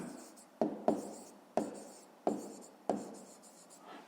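A pen scratches across a notebook page, writing out the answer to a fifth-grade math exercise in a series of short strokes with sharp taps between them, quiet and close.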